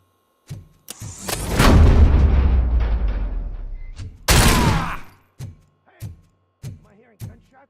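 Gunfire in RoboCop: Rogue City: a sustained, loud barrage of booming shots followed by several sharp separate shots, with a brief voice heard among them.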